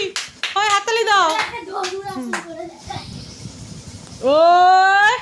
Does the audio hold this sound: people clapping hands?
yes